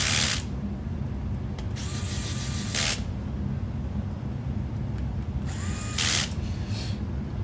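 Screws being driven into the wheel of an Axial SCX10 III Early Ford Bronco RC truck, two short whirring bursts from a small power driver over a steady broadband background hiss, close up.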